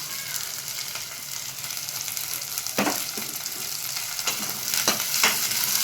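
Green chillies fry in a pan for a vegetable biryani, a steady close sizzle broken by a few sharp stirring clinks and scrapes.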